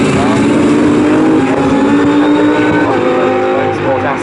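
GT Cup race cars at Snetterton circuit, their engines producing a sustained, loud roar with shifting pitch, while a commentator's voice seems to run over the top.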